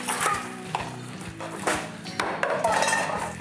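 Metal cooking utensils clink and clatter against pots and pans in a home kitchen while pasta is being prepared, a busy run of close, bright knocks and rattles with no talking.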